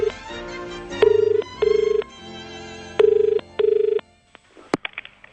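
An old rotary phone rings in two-burst cycles of loud, close, rattling electromechanical bell, then stops and is followed by a few faint clicks.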